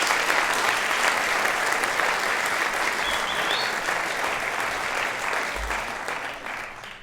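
Graduate commencement audience at a university engineering ceremony gives a long, dense round of applause that stays loud and steady throughout, then starts to taper off near the end.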